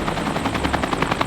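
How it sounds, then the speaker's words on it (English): Police helicopter arrives at a public safety day, its rotor giving a rapid, even chopping pulse over a low engine drone, moderately loud and heard alone for a brief moment. "the helicopter arrives to save the day"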